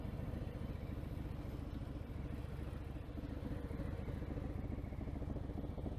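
A Harley-Davidson Fat Bob 114 fitted with a Vance & Hines exhaust and FP3 fuel pack idles steadily up close, giving a continuous deep rumble with a faint ticking texture and no talking.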